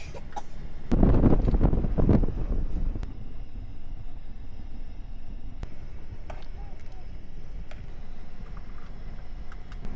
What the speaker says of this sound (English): This is really strong though, this wind.